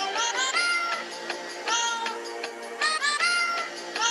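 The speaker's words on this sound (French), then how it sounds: "Et on termine avec la meilleure reprise, celle d'un chat, un lolcat," A cat meows over and over in a lolcat cover song, giving a string of bright, close meows in quick bursts with short gaps between them.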